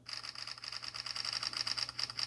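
A rapid burst of Samsung Galaxy A14 5G camera shutter clicks, evenly paced and continuous for a couple of seconds, fairly quiet and close.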